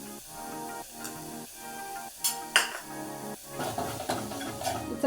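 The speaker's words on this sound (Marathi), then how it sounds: "चटणी टाकून झाल्यावर अजून आपल्याला असं छान परतवून घ्यायचं आहे" Chicken masala with Kolhapuri chutney is stirred in a pan, a run of rhythmic metal spoon scrapes and clinks over a faint sizzle, close and quiet.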